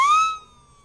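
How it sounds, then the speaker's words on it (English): A single shrill whistle blast rises sharply and then fades away in under a second, sounding like a siren. "Turns out that this whistle is like a siren"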